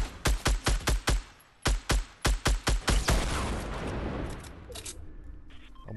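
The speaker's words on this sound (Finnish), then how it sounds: "nyt tulee granaatti" A rapid volley of explosive blasts from a grenade launcher in the Fortnite video game, two quick bursts of five or six sharp, loud booms each, followed by a rumbling, fading decay with no talk.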